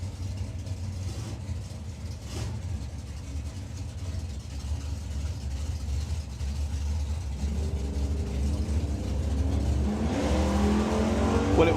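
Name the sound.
1965 Ford Mustang and 1963 Dodge drag race cars launching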